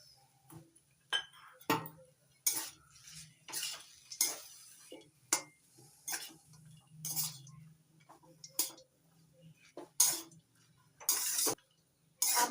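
A spoon clinks and scrapes against the pan while suji upma is stirred together with chopped coriander leaves: a string of sharp, close, irregular taps with quiet gaps between them and no talking.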